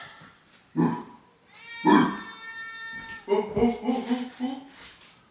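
A house cat meows several times at close range, drawn-out cries spaced across the moment, followed by a run of shorter chirping mews, with faint voices in the room.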